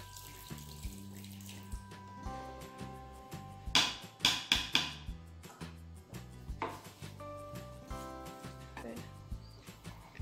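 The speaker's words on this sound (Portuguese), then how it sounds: "Corte as batatas em 4 partes." Raw potatoes are cut into quarters on a board for a shredded pot roast with mashed potatoes, giving a short run of sharp knife chops in the middle, with running tap water and kitchen clatter around them.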